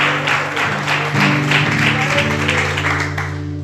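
Congregation applauding during a church sermon, a steady, continuous wash of clapping from many hands over a low sustained tone, loud and even throughout.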